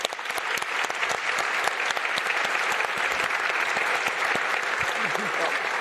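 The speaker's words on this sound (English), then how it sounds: "a round of applause for our panelists" Sustained applause from a conference audience at a policy summit, a dense steady wash of many hands clapping for panelists across the whole stretch, with faint voices mixed underneath.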